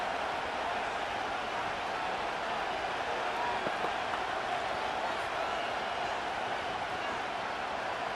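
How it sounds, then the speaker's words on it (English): A stadium crowd in the Madden 25 football video game, on PS5, gives a steady broadband roar of cheering that holds at an even level for the whole stretch and sounds large and distant, with no single voice standing out. "This crowd into it now as we get to 3rd down."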